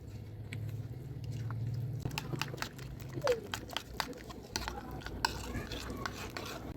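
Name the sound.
stirring eggs into spices in a pan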